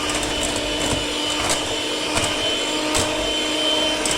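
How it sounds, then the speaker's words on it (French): An electric hand mixer whirs steadily while beating a milk and yeast mixture for puffed beignet dough, a constant buzzing drone with faint periodic clicks of the beaters against the bowl, close and alone. "Je vais allumer mon batteur, ma batteuse."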